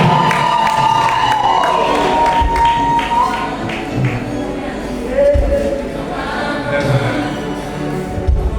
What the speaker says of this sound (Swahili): Makofi na vigelegele kwa Bwana.